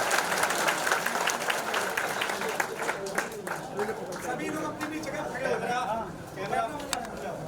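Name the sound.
loud applause from a crowd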